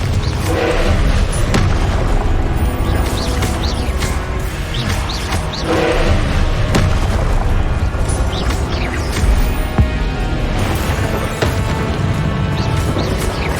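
Repeated Confringo blasting-spell explosions in the Hogwarts Legacy video game boom and crash amid ongoing combat effects, several loud bursts spread across a busy, dense game-sound mix.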